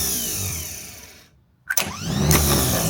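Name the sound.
International 200 truck starter motor cranking engine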